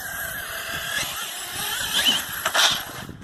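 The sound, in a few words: Mt8e RC car driving in park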